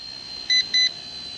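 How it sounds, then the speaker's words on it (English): Two short, high electronic beeps in quick succession from a toy RC helicopter warning of low battery, sharp and clear over a faint background hum. "Okay, it's beeping now, so that tells me it's going to be close to the end of our battery"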